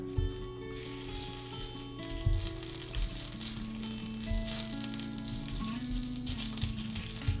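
Sausage sizzles in a frying pan with a constant crackling hiss, close and steady, with occasional pops and light stirring or scraping over a low background hum.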